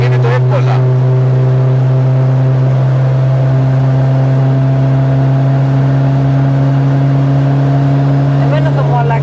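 A BMW and a Skoda on a night drive produce a loud, steady engine drone with a constant hum, holding an even pitch throughout rather than swelling.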